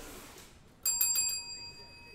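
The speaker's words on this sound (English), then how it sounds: "Ding, ding. I don't know where's my bell, Sean?" A small bell gives a couple of quick, bright rings with a clear ringing tail, fairly near, against a faint background hiss with no talking.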